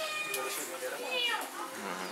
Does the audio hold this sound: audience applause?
no